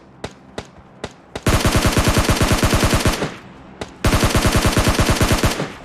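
Automatic gunfire in PUBG Mobile Lite finishing off an enemy: a few single loud shots, then two sustained rapid bursts of rattling fire separated by a brief pause, close and dominant with no talk.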